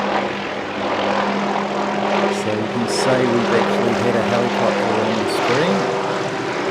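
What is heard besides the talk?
helicopter flying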